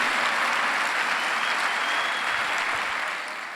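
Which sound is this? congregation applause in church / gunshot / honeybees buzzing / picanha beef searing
congregation applause in church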